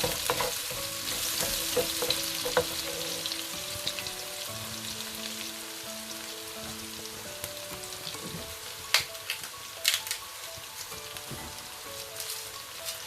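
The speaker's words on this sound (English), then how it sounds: "We'll give that a little bit of a stir." Chicken bhuna frying in a pan, a steady close sizzle with soft stirring scrapes running throughout and a few louder clanks near the end.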